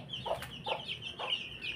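Young chicks pecking at feed while soft clucking calls repeat every half second or so, close by and quiet, with no talk.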